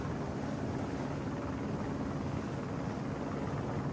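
A helicopter hovers above a sailing race, a steady, loud rotor and engine roar mixed with wind rush on the microphone, continuous with no pauses.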